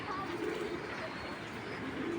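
A racing pigeon coos softly and low in a loft, a murmuring call sitting under steady background noise.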